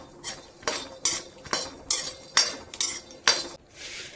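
Dates and dry nuts dry-roasting in a pan, stirred with a metal utensil: a steady rhythm of scraping, clinking strokes against the pan, about two per second, close and fairly loud with no talk.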